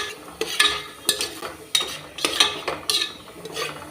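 Chopped ginger and garlic sautéing in a pan for chicken mandi, with repeated scraping and stirring strokes of a utensil over a soft sizzle, close and alone.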